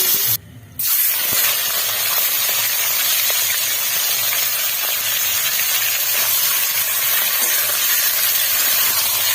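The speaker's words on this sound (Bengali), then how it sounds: "ফোড়নের পরে মশলা ছাড়া আমি মাংসটা কিছু সময় ভেজে নেব" Chicken pieces fry in a little oil after a cumin tempering, giving a loud, continuous close sizzle and hiss that runs almost uninterrupted apart from one short dip near the start.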